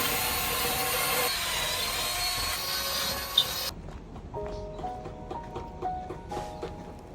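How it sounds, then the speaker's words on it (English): A wire brush scrubs rust on a steel narrowboat, with steady close rasping strokes that fill the first half, then a quieter stretch of scattered scraping. "And I'll run the old wire brush over there again too."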